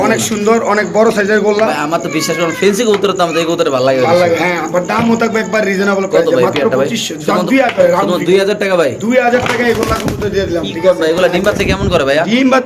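A pair of fancy Spanish pigeons coo in soft repeated rolls, close by, largely under continuous conversation between several men.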